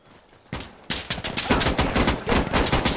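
Gunfire in the tactical shooter game Insurgency: Sandstorm: a few sharp shots open, then a sustained rapid volley of automatic fire rattles on continuously, loud and close, with no speech over it.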